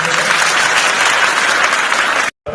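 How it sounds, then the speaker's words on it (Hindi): An audience breaks into loud, dense applause to welcome a speaker at a student gathering, a continuous close roar of clapping that cuts off abruptly near the end. "तो हम एक बार जोरदार ताली से स्वागत करेंगे"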